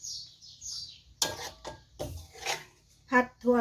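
Spatula scraping and clinking against a pan while snow peas and pork belly are stir-fried, heard as a few sharp metallic knocks and rattles spread over a quiet, close background.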